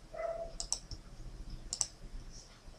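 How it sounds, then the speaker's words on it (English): Computer keyboard key presses while working in 3ds Max, two pairs of sharp, close clicks about a second apart over quiet room tone. "We can do that by pressing F4 on the keyboard."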